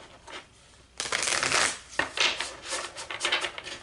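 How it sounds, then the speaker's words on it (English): A deck of playing cards is riffle-shuffled close up, a quiet lead-in then a dense fluttering burst, a brief pause, and a second rapid riffle with crisp papery slaps, no voices. "I'm going to shuffle this 2 more times"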